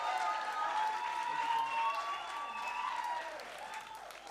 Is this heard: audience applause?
yes